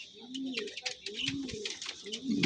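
Madrasi highflyer pigeons coo in repeated low, rolling phrases close by, with faint chirps and handling noise mixed in.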